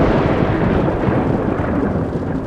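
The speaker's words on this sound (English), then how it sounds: "The thunder feels close." Thunder in a storm scene from a Jurassic Park audio drama rolls as a dense, loud, continuous rumble that sits close and fills the whole stretch without a break.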